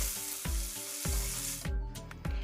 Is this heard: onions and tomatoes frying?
yes